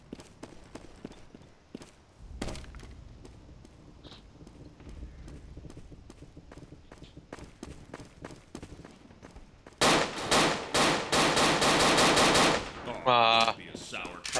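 Gunfire in the first-person shooter Dino D-Day: scattered single shots, then a dense burst of rapid automatic fire near the end, loud and close.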